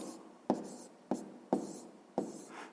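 A pen writing on paper during a sixth-grade maths exercise, soft scratchy strokes broken by four sharp taps as the pen lands, close and quiet, with no talking.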